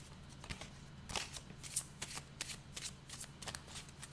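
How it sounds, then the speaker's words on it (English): Long tarot cards being shuffled by hand, giving a run of close, crisp riffling flutters and soft slaps in irregular bursts, with no voices. "it's harder, it's trickier to shuffle them because you've only got a little thin thing to shuffle with"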